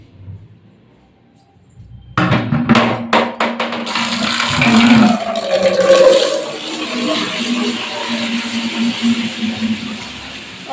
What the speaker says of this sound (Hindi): तो मैं बस बाल्टी रखने जा रही हूँ भरने के लिए।